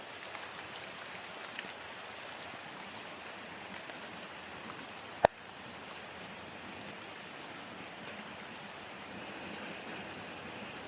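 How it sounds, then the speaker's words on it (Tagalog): Rain falls through a forest of large trees, a steady, even hiss of drops lasting the whole stretch, broken once by a single sharp crack midway, with no talking. "Tapos umulan pa."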